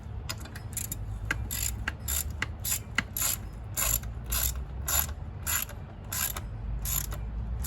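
A ratchet wrench clicks in quick bursts while tightening valve cover bolts on a 2006-or-later Mitsubishi Eclipse 2.4L engine, close and crisp, repeated strokes with short pauses.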